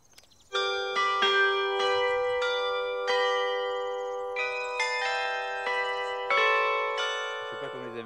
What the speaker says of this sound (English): a rather special set of Angelus bells intended to impress his foreign visitors